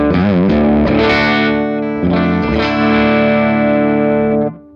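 Music Man Axis electric guitar tuned to drop D, played through a VASE Tonesetter 18 amp with a Celestion G12M speaker; loud, overdriven chords ring out alone, with a brief pause midway and a final chord cut off near the end.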